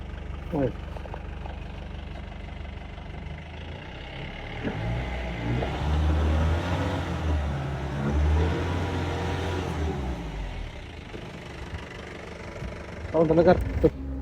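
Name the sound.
Mahindra Bolero engine idling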